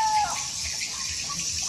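Chirping calls of a large swiftlet colony flying around a swiftlet farm, a continuous high twittering chorus, fairly loud and steady over a brief stretch.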